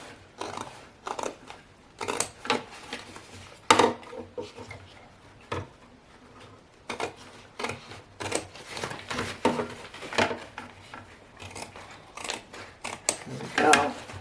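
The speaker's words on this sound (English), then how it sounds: "I'm going to cut as close around this stitching, or this circle, as I can without cutting the stitches" Scissors snip fabric around the stitched circle of an embroidered patch, the hoop being turned while cutting; close, quiet irregular clicks and snips in uneven bursts.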